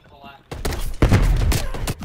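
Video game sniper fire lands as a couple of sharp, close gunshot cracks and thumps in quick succession, with voices exclaiming over the action.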